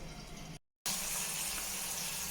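Cold water gushes from a newly installed IKEA ENSEN bath faucet with an aerator. It hisses loudly and steadily, cuts off briefly, then resumes at full flow.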